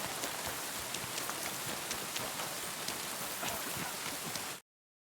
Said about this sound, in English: Pissing down rain again.